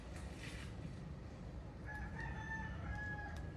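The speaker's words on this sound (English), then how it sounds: "You guys hear that rooster?" A rooster crows outdoors, one drawn-out cock-a-doodle-doo rising partway through over a steady bed of background noise, fairly distant and clear, with no talking.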